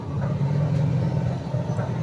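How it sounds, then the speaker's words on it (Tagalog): A motorized tricycle engine runs steadily in the background, a low, rumbling idle with a constant hum and no sharp changes. "Yung isang tricycle, background ko yun ay."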